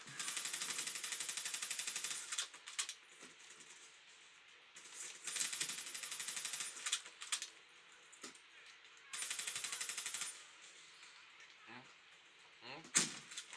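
Rapid gunfire bursts in the Black Ops 3 campaign, sharp clattering volleys coming in a few separated spurts amid faint battle noise, with quiet stretches between.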